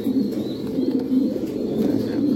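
An Andalusian male pigeon coos softly and repeatedly in a low, throaty rhythm, close by and unaccompanied by talk.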